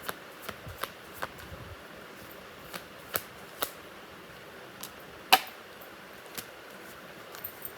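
A deck of tarot cards is shuffled in a quiet room, giving soft riffling and a scattered series of light, crisp card snaps and taps at close range.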